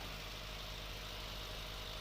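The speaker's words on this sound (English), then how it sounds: "So if we go and start the engine now, it detects the engine start." A car engine, just started, runs at a steady idle, a low continuous rumble with a faint mechanical hum, with no voices.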